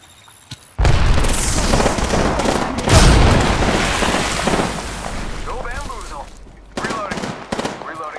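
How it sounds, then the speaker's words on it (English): Grenade blast and gunfire in an Apex Legends firefight: a sudden loud explosion, then a second heavy boom and a sustained rattle of shots that gradually fades, with voices speaking over the gunfire near the end. "Look out, grenade."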